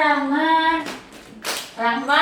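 A couple of sharp hand claps land in a classroom group-guidance session, set between stretches of children's voices chanting or speaking.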